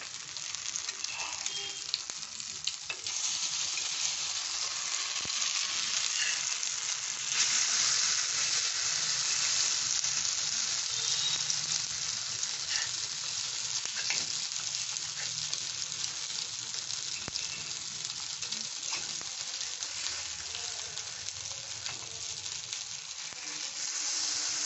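Soya keema cutlets frying in hot oil in a pan give a steady, close sizzle with faint crackle that runs unbroken throughout, with no talking.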